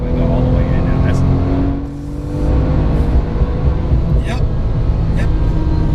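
A 2008 Porsche 911 GT2 (997) accelerates at full throttle with a loud, sustained engine roar that dips briefly and climbs again, heard from inside the car while occupants talk over it.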